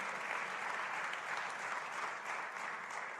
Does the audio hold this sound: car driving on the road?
no